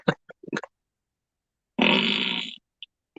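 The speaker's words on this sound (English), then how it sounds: "Here's a nuclear fart." A long, loud, rasping bodily noise played as a fart sound effect, a buzzy blast of nearly a second standing alone after a few short clicks and knocks.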